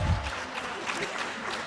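Scattered applause from an audience at a women's conference in Lusaka, greeting a guest speaker. The clapping is soft and sustained for under two seconds, with a voice faintly mixed in.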